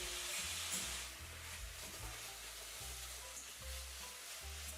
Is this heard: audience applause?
no